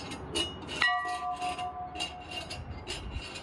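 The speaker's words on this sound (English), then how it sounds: "Little bell." A small bell struck once, its bright ringing tone hanging and fading over a few seconds amid faint background noise in an old desert tower setting.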